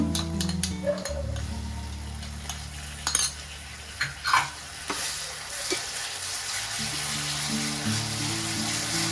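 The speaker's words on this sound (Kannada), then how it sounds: "ಇವಾಗ ಶುಂಠಿ ಬೆಳ್ಳುಳ್ಳಿ ಪೇಸ್ಟ್ ಅಲ್ಲಿ ಹಾಕಿ ವಾಸನೆ ಎಲ್ಲ ರೋಸ್ಟ್ ಮಾಡ್ಕೊಂತಿದ್ದೀನಿ" Ginger garlic paste roasts in a pan with browned onions for pepper chicken, a soft steady sizzle under a low background hum, broken by a few clanks of a spoon stirring against the pan.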